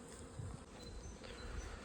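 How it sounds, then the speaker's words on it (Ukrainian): A honeybee arriving at its hive with pollen buzzes close by with a soft, wavering drone, faint and steady over quiet background hiss. "прийшла бджілочка з пилком"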